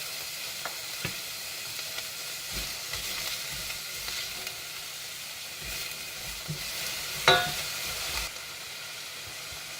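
Onions fry in two tablespoons of hot olive oil in a small saucepan, a steady close sizzle and hiss with occasional stirring scrapes and a brief louder spatter near the end.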